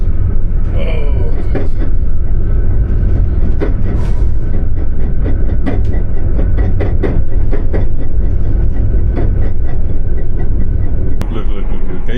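Fast Indonesian passenger train heard from inside the carriage: a steady loud rumble with rhythmic clickety-clack of wheels over rail joints throughout, while people talk over it.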